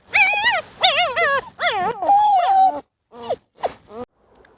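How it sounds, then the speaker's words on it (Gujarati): A puppy whimpers close by in a series of high, wavering whines and short yelps, several in quick succession, then a few shorter cries before falling quiet. "ગલુડિયું રાયડું પાડે"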